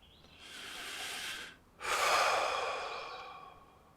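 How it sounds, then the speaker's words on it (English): A person takes a slow, deep breath, an audible inhale that pauses briefly before a long, airy exhale fading away, close and alone with no talking. "Let's just take a breath."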